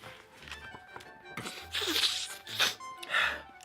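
A storyteller reading the tale of the three little pigs voices an exaggerated sneeze, a vocal imitation with huffing breaths building to two or three loud, sharp bursts close to the microphone.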